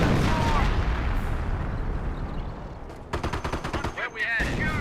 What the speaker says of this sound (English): Good mortar hit there.